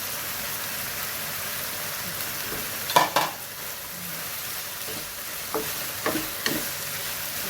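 Chilies stir-fried in a pan for a Thai basil stir-fry with sun-dried catfish, giving a steady sizzle with a few brief scraping stirs of the utensil partway through.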